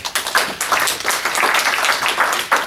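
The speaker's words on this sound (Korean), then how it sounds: "최승호 대표님 박수로 맞아주시기 바랍니다" A small seminar audience on student baseball applauds a guest speaker's welcome, a loose burst of clapping with uneven individual claps standing out and no talk over it.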